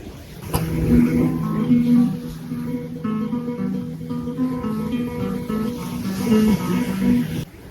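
A classical guitar plays "Asturias" as a flowing melody of plucked notes, close and clear, without any voices.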